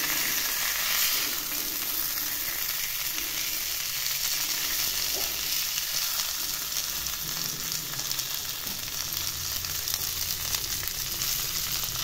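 Chicken frying in a little oil on a tawa, a steady close crackling sizzle that holds evenly throughout with no voices.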